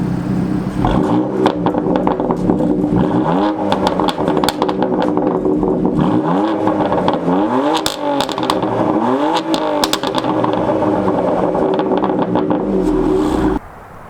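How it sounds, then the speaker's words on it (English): Tuned BMW M4 Competition engine revving repeatedly, loud throaty rises and falls with crackling burbles and pops on the overrun, recorded close up. "Another thing they did with the car was tune it, which I can give you a few sound clips right here."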